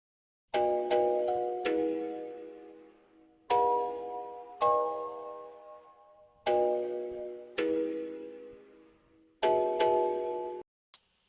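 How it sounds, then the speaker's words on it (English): A bell patch from the Lo-Fi Glow synth plugin, played as a series of sustained, chiming tones in repeated phrases with a soft textured decay, close and alone with no talking. "I'm gonna go down here to the second bell here and play that for you"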